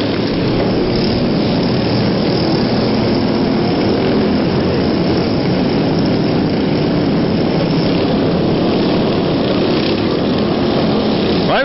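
Racing lawnmower engines scream at high RPM during a Bash for Cash lawnmower race in 2011, a loud, continuous, droning buzz with no talk over it.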